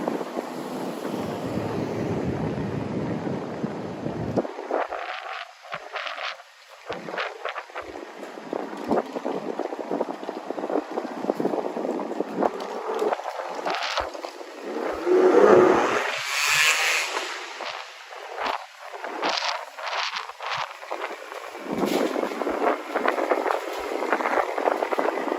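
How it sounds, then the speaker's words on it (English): Strong night wind blows outdoors in Miami, buffeting the microphone with loud gusty rushes that swell and fade over the whole stretch, with faint passing noise beneath and no talking. "So windy tonight, it is just crazy."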